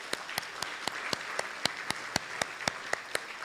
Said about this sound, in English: I do want to give a round of applause for all of our staff and our committee